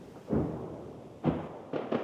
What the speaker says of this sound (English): The thump of artillery strikes.